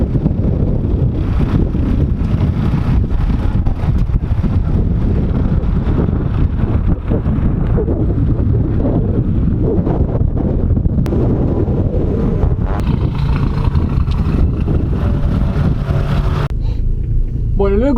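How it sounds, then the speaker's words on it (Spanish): Strong wind buffets the microphone at a track day at the Olavarría circuit in Argentina, making a loud, continuous low roar with gusty fluctuations that lasts the whole stretch. "No sé si se va a escuchar el viento que hay."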